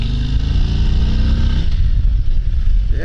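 A loud, close 2023 Harley-Davidson Road Glide Special touring motorcycle's 114 engine revs and accelerates, its deep rumbling growl rising as it pulls away, with no voices.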